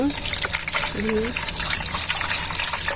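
Water splashes and gushes over live stinging catfish (shing) at a village fish seller's, a steady wet pouring noise with voices talking over it.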